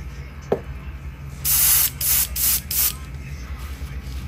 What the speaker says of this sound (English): we're gonna go backwards and spray at an angle